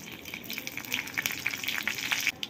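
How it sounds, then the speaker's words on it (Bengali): Dried red chillies being tempered in hot oil for a vegetarian dish, a steady close sizzle and crackle with small spattering pops throughout, no voices. "আমি ফোড়নে দিয়ে দিচ্ছি, দেখুন শুকনো লঙ্কা,"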